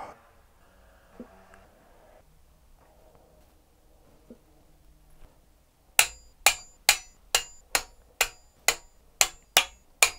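A torque wrench tightens engine bolts to 60 Nm during a forged engine build. Faint handling noises are followed by a close, steady run of about ten sharp, evenly spaced clicks.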